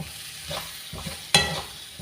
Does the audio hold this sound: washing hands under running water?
no